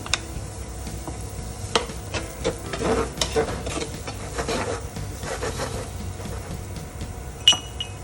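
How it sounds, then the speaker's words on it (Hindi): Capsicum and spring onion sautéing in a pan for bruschetta, with scattered spatula scrapes, clinks and a soft sizzle, irregular and close, one sharper knock near the end. "बिल्कुल 2 मिनट सौते करेंगे कैप्सिकम"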